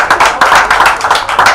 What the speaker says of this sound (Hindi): एक बार तालियां सोनोटेक के लिए।